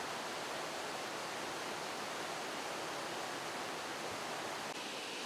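Johnston Canyon Lower Falls, a small but high-volume waterfall in Banff, gives off a steady, dense, even roar of rushing water that fills the whole span, heard alone without voices.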